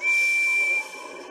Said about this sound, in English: I think I can whistle just as well as Gordon